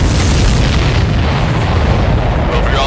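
A supply ship blows up in the video game Ace Combat 7, giving a loud, sustained rumbling boom with a dense low-end roar that fills the whole stretch.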